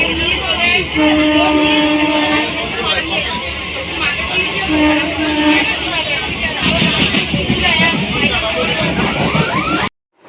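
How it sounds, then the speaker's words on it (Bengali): At a station a train rumbles in with long, steady horn-like tones and a rising rush of wheels over the rails, loud and close, while a crowd murmurs underneath before the sound cuts off abruptly. "এই যে ট্রেন চলে এসেছে"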